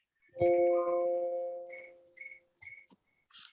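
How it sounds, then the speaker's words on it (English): Crickets chirp in short, evenly spaced high-pitched bursts, close and clear, after a brief low tonal hum at the start; no voices are heard. "I hear crickets."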